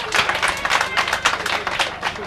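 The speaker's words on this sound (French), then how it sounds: "Applaudissez, applaudissez." An audience applauds at an athletics award ceremony in Makoua, Republic of the Congo, with a dense, fluttering clapping that swells and fades in waves over a couple of seconds.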